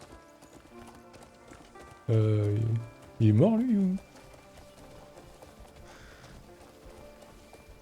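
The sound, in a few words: horse galloping and neighing in the video game Crimson Desert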